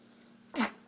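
A baby girl lets out one short, sharp sneeze close by, set against quiet surroundings.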